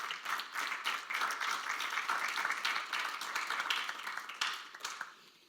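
A church congregation at a Spanish-language service claps together in praise, fairly quiet and distant, with quick irregular hand claps forming a steady patter that tapers off at the end.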